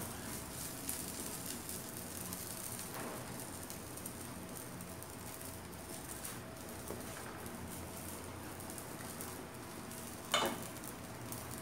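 Cornmeal cake batter cooks in a frying pan, giving a steady, faint sizzle that runs throughout, with a few soft clinks and scrapes breaking through now and then.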